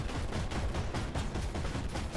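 Rapid, dense gunfire from an armored vehicle in the tank combat game Armored Warfare rattles continuously at close range, loud and unbroken, with no talk over it.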